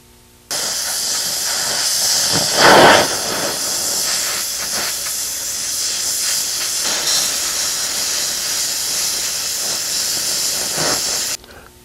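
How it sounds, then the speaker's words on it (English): Fuse welding a 1/8 inch steel piece onto a steel disc produces a loud, steady, harsh hiss that starts abruptly and runs for about eleven seconds before stopping sharply; no talking. "I'm going to fuse weld this 8th inch piece to the disc"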